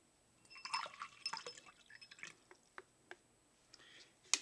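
Water being poured into two water-based solutions in containers, heard as a string of close, light splashes and drips, busiest early on, then thinning to scattered drops with a final sharper splash.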